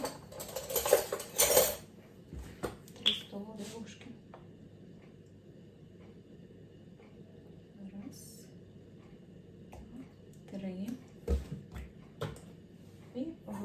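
A spoon clinks and scrapes in a bowl while a dough of sour cream, oil and melted margarine is stirred, with a burst of clattering at first, then quieter scraping and occasional taps.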